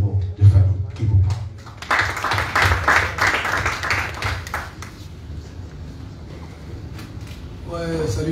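At a press conference, a burst of audience applause builds from scattered claps into a dense, loud round of clapping. It fades after a few seconds and a voice comes in at the end.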